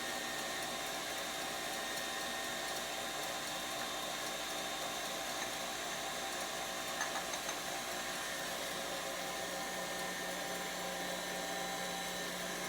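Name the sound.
electric mixer beating egg whites with sugar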